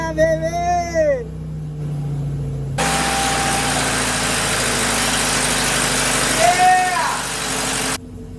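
A restored Porsche 912 engine, back on the road after 43 years, idles steadily and loudly after starting, a rough, rumbling drone under excited voices and cheering. Near the end it cuts out and the cheering carries on.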